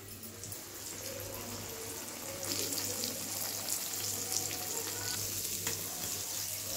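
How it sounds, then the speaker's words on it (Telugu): Fish pieces coated for rava fry sizzle steadily in a hot pan, a dense continuous crackle that grows slightly louder partway through, close by with no talk. "ఇప్పుడు ఒక 4 ముక్కలు వేయించినండి."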